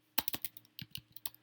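Quick bursts of computer keyboard keystrokes, a dozen or so crisp clicks in two short clusters, close and fairly quiet with no voice.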